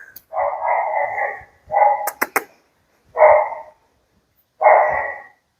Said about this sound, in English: You can hear the dog over there making some noise now.